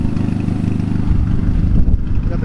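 A Caliber SRT-4 engine idles steadily with a low, rumbling hum, close by and continuous, with some rough wind noise over it.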